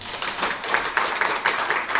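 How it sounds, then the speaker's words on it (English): Audience clapping at a Lincoln City Council meeting, a modest burst of scattered hand claps in a rhythmic patter, fairly close and heard on its own without talk. "If we can hold the applause down a little bit, just so we can keep moving"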